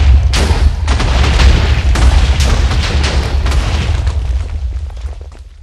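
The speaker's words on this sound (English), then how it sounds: "And it explodes when it hits either a block or an entity like a cow." Minecraft TNT from the Mo' TNT mod blowing up in a video game, a loud booming blast with a deep rumbling tail and several overlapping bursts, with no talking.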